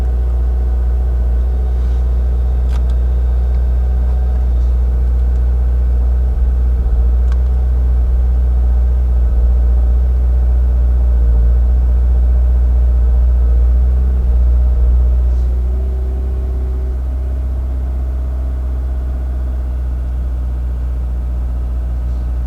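A car engine, just fitted with a new clutch, idles steadily with a deep, constant rumble, close and continuous throughout. The pitch drops slightly near the end.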